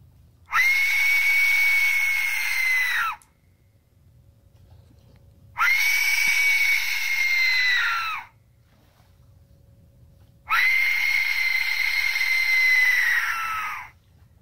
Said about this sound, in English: That's an Aztec death whistle.